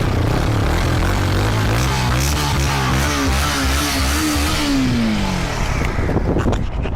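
A used dual-channel ABS motorcycle with about 884 km on it idles and revs loudly up close, engine pitch rising and falling smoothly over several seconds before settling.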